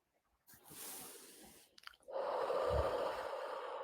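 Slow relaxed breathing close to the microphone: a long soft exhale, a short pause, then a longer and louder breath out with a breathy hiss, with no talk.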